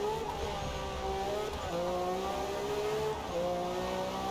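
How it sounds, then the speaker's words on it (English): A Ferrari V6 engine in a video game revs hard and climbs through gears, whining upward in repeated pulls with brief dips between shifts, loud and continuous. "it doesn't sound bad for a V6"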